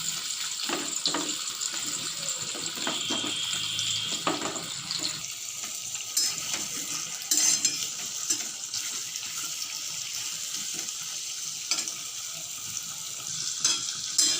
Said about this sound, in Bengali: এখন আমি টুকরো করে কেটে রাখা কুমড়োগুলোকে দিয়ে হালকা করে ভেজে নেবো